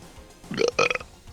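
A single short, close burp from a character in the video game Danganronpa, abrupt and fairly loud against quiet background.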